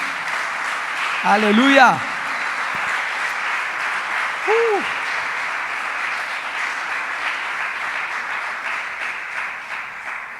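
A church congregation applauds loudly and continuously during a Spanish-language sermon, a steady dense wash of clapping from many hands, while a voice calls out briefly over it.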